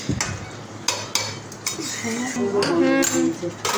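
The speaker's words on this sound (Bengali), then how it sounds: "এই যে মা ঢাকা খুলে এখন নাড়ছে" A metal spoon scraping and clinking against a pot as food is stirred after the lid comes off, a series of close, sharp clanks and scrapes with no talking.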